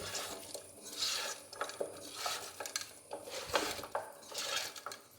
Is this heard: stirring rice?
yes